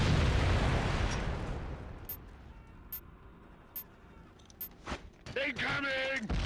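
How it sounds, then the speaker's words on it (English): A grenade in the shooter Killzone bursts in a loud, rumbling blast at the start that decays over a couple of seconds, followed by sharp scattered pops and a voice calling out near the end. "Try cooking a grenade this time."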